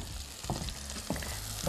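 Zucchini pieces fry in very hot oil, crackling and sizzling close up, with a couple of louder stirring clatters in the pan and no voices.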